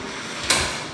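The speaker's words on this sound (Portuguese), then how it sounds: "Eu vou até fechar essa porta aqui." A bedroom door in a windy house is pushed shut, giving one brief close thud and rattle of the latch over steady background noise.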